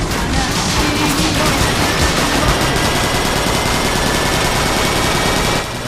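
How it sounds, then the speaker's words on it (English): Helicopter-mounted machine gun fire in the video game Transformers: Fall of Cybertron, a loud, dense, continuous burst of rapid shots that fills the whole stretch without pause before cutting off abruptly. "The machine gun does quite a bit of damage, but it can be hard to hit tiny guys on the floor."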